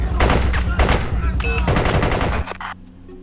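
Gunfire in the Spycraft: The Great Game video game: loud, rapid bursts of automatic fire crackling close by for about two seconds, then abruptly cutting to quieter game sounds.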